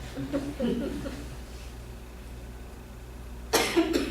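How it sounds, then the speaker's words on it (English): Coughing during a poetry reading at a bakery lounge: a short burst of loud, close coughs near the end, after a stretch of quiet room noise with faint murmuring at the start. "I start coughing."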